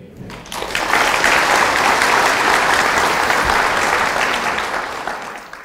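Audience applause fills a lecture hall, rising within half a second into a dense, steady clapping that holds for about five seconds before easing off slightly, with no talk over it.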